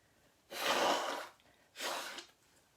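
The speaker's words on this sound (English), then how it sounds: "I'm gonna have to blow my nose" Two forceful blasts of air through the nose, a long one then a shorter one, close and breathy like someone blowing into a tissue.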